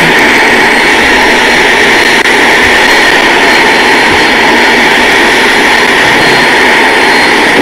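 A loud, steady jet engine roar from an F-117 Nighthawk in the Flywings 2016 flight simulator game, a continuous broadband rumble and whine with no talk.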